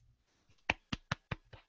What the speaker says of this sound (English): The golf clap.